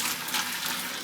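Water pours and splashes steadily as cooked shrimp is drained, a continuous near hiss and rush of liquid with no pauses.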